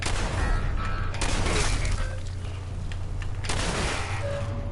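Gunshots and shattering impacts in Fallout 4, a cluster of sharp blasts and breaking crashes near the start, then further scattered shots over a droning game background.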